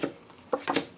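Oracle cards being shuffled by hand in a reading, a few quick papery riffles and flicks, close and fairly quiet, with no talking.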